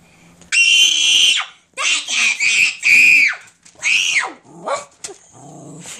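Household dogs react to a newly arrived pet bunny with a series of loud, high-pitched yelps, whines and squeals in several close bursts, separated by brief quiet gaps.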